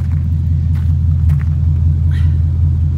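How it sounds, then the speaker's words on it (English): Deep, steady idle rumble from a 2018 Ford Mustang 5.0 GT convertible with a MagnaFlow exhaust, a continuous low throb held close up with no talking. "Not too noisy, but does sound like thunder"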